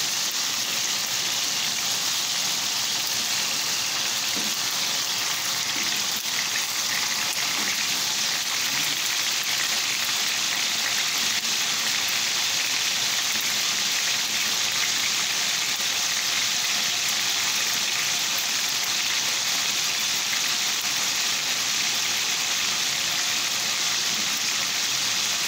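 Hotdogs frying in a pan give a steady, dense hiss of sizzling and spattering oil that holds at an even loud level throughout, with no voices.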